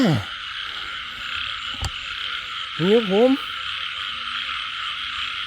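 Frogs croak outdoors during rain at night while frogs and toads are being caught, a couple of loud rising-falling croaks close by over a steady wash of rain hiss and a distant insect-like chorus, with a brief spoken word.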